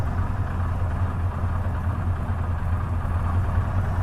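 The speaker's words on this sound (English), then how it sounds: "And we bring it up to a higher RPM." A Spartan 7W Executive's radial aircraft engine in Microsoft Flight Simulator runs up to higher RPM, a steady deep drone with a strong low throb and rumbling vibration, continuous and close with no talk.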